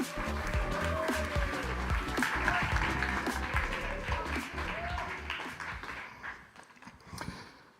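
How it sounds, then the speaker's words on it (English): A conference audience claps for a startup pitch team at a demo day event, a dense burst of applause that fades toward the end, with a voice briefly heard under it. "please give them a big round of applause"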